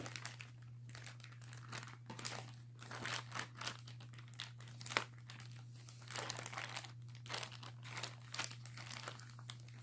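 Plastic bag from a heavy mailed package crinkles and crackles as it is handled, in close, uneven bursts over a steady low hum.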